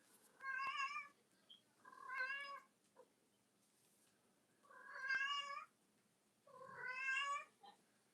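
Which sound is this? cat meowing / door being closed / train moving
cat meowing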